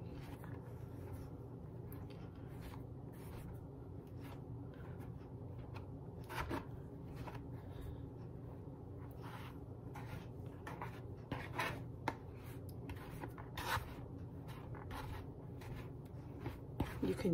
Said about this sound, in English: combine the flour and the butter using a pastry cutter.